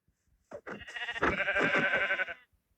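A sheep in the video game Minecraft lets out a single drawn-out bleat, wavering and clear, lasting about two seconds against otherwise quiet surroundings.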